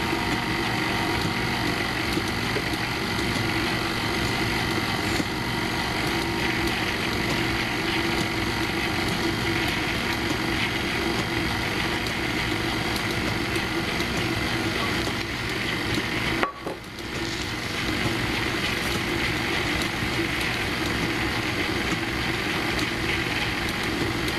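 An electric mixer beating oatmeal cookie dough, making a continuous, fairly loud whirring motor drone that runs the whole time, with one brief break in the sound partway through.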